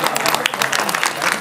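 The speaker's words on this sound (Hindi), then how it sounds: "एक बार जोरदार तालियां।" Audience applause at a gathering: a brief, loud, dense burst of many hands clapping, with a faint hint of crowd voices.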